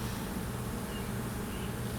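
Honeybees in an opened hive of the colony Galadriel, inspected while a second box is added, make a steady, low, quiet droning buzz that holds even and unbroken throughout, with no talking.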